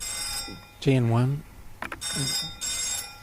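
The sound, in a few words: telephone ringing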